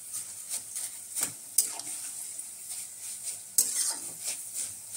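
Potato slices fry in hot oil with a steady, bright sizzle, broken by occasional sharp scrapes and clinks as the pieces are stirred in the pan; no one speaks.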